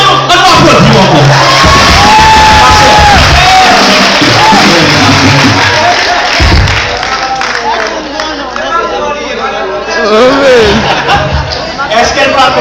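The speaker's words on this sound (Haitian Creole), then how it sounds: "On va applaudir encore." An audience at a Haitian Baptist church evening event cheers and whoops loudly, with excited voices and shouting blending into a dense, close crowd roar that eases slightly midway before swelling again.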